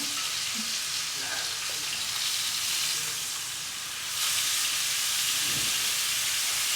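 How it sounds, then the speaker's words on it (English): Ahi tuna sizzles loudly in a hot pan, a steady bright hiss that briefly dips and then surges back louder as it is turned. "You hear that nice sizzle when it turns over."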